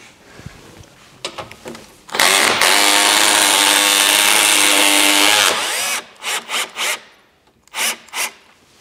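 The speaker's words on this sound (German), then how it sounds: "Bei den beiden Schrauben, die wir hier vorne jetzt noch drin haben, diese hier, die löse ich jetzt mal nur an." A power tool whirs loudly and continuously for about three seconds while loosening screws on the front skid plate of a Dacia Duster II, followed by several short bursts of the tool.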